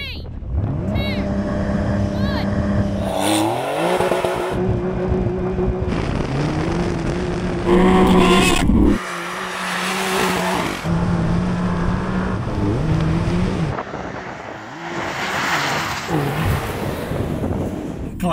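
Off-road drag race between a Porsche 911 Dakar and a Porsche Cayenne: loud engines rev and roar past with shifting gear tones, wind buffeting the microphone, surging to a peak midway, with voices talking over parts.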